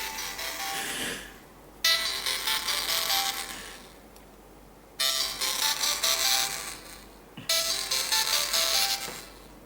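A Sony Xperia phone speaker plays a ringtone in repeated bursts with gaps between them. The sound is harsh, hissy and distorted, as from a faulty speaker, and heard fairly close.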